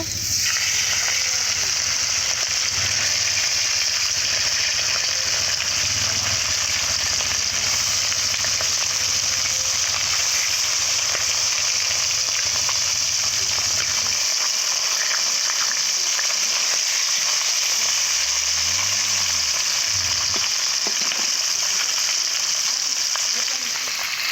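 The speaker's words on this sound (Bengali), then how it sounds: "মাছগুলো এক করে ভেজে নেব" Pomfret fish frying in hot oil, a loud continuous close sizzle and crackle that holds steady throughout, with a faint voice briefly underneath.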